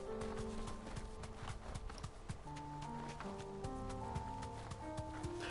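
Chocobo riding in Final Fantasy XVI: rapid, steady clip-clop footfalls beat along under layered game music with sustained tones, continuous and mid-loud throughout.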